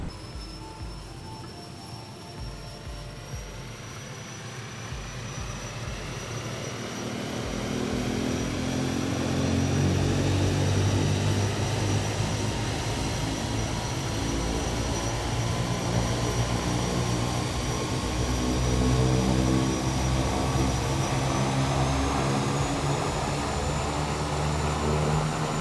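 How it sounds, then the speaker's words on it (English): The 750 hp turboprop of a Kodiak 100 spools up in Microsoft Flight Simulator, a steady engine roar with rising whine building from quieter idle to a sustained loud drone over about twenty-five seconds, no voices. "the 750 horsepower turboprop sounds incredible at startup"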